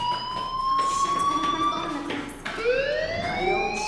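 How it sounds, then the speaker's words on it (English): A fire alarm in the video game Life Is Strange gives sustained electronic siren-like wailing tones. The pitch glides steadily and resets once partway through. It stays loud and continuous throughout, with some faint background talk. "do you hear that fire alarm? That means you should be outside."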